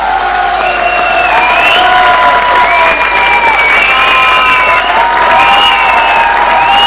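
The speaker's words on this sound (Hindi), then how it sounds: "जोरदार तालियां हो जाए" A television studio audience at a bridal reality show breaks into very loud applause mixed with shrill cheering and whoops, voices rising and falling over continuous clapping close by.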